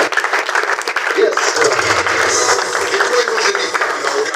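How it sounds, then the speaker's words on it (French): Loud, steady applause from a crowd of spectators at the end of a match, broad and continuous throughout with an announcer-style voice mixed in. "l'assistance applaudit bien fort, s'il vous plaît"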